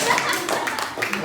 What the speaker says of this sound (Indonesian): Tepuk tangan buat Tommy